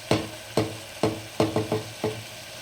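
Millet menthya bath being stirred in a pan, with seven evenly spaced scraping, sizzling strokes of a spoon against the metal, close and clear with no talking.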